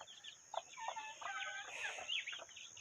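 Chickens cluck and chatter in a rural farmyard alongside goats, ducks, guinea fowl and chicks, with a faint rooster-like call; the birds sound moderately distant over a steady high insect-like whine.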